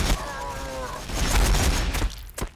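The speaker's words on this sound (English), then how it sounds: "War bikers firing, boss." Ork warbikers opening fire in a Warhammer 40,000 battle game, a dense volley of rapid crackling gunshots and thuds that rolls for a couple of seconds, loud and close, with a voice speaking over it.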